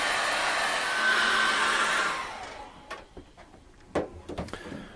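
A hair dryer blows steadily for about two seconds, drying acrylic paint on card during a seascape painting, then switches off, leaving a few light ticks and taps.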